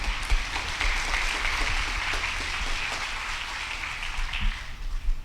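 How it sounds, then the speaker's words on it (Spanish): Church congregation at a servants' congress applauding, a broad sustained wash of many hands clapping at moderate loudness, continuous and even across the whole stretch with no voices over it. "Denle un aplauso al Señor ahora."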